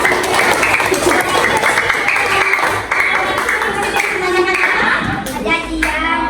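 Primary school pupils in a Bahasa Indonesia class clap together in a steady, close patter that runs throughout, mixed with children's voices and a teacher speaking over it.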